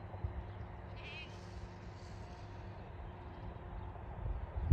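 Goats gathering for food on a farm in southern Norway let out a couple of faint, wavering bleats over a low rumbling background, ending with a brief knock close by.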